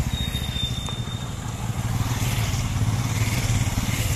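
Motorcycles from a bikers' group ride past on a mountain road in Arunachal Pradesh, a continuous engine drone that stays fairly loud throughout, with a faint high whine early on.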